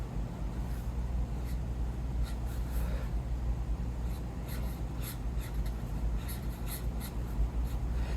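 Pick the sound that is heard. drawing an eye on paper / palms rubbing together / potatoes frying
drawing an eye on paper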